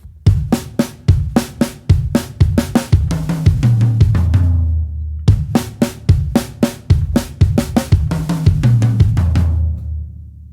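A drum kit plays a steady pattern with punchy bass drum hits and a tumbling run down the toms, repeated twice with cymbal wash.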